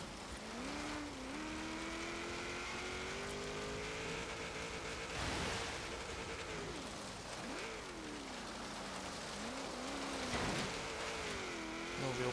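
A 1945 Jeep Willys MB engine drones steadily in Forza Horizon 3 during an autocross run, its pitch rising and dipping as it revs through gear changes, continuous and fairly loud with no talking.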